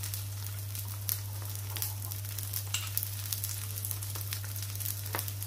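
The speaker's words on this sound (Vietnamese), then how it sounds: "Bây giờ mình sẽ chiên nó lại." Crispy rice crust fries in hot oil, a steady soft sizzle with scattered crackles and pops under a constant low hum.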